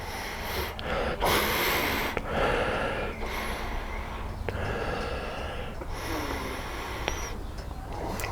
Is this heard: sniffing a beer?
yes